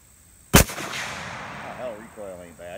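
A single sharp, loud rifle shot from a Savage 110 Tactical chambered in 6.5 Creedmoor, fired outdoors at a target, followed by a short decaying echo and then someone speaking.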